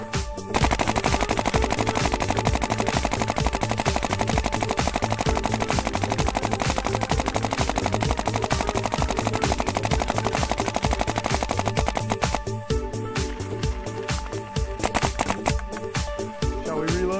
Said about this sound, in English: everyone likes seeing a hopper just unleashed at full auto